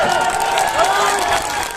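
Loud crowd applause and cheering at a political rally in Bihar, a dense continuous roar of clapping with shouting voices mixed in throughout.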